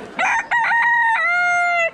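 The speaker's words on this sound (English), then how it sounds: "Big barred rooster." A big barred rooster crows once, loud and close: a few harsh, broken notes that swell into one long, drawn-out final call.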